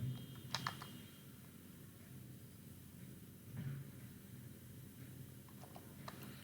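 Keys clatter on a computer keyboard as HTML code is typed out, a faint, close run of irregular clicks with a few sharper taps standing out.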